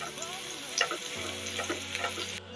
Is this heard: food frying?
yes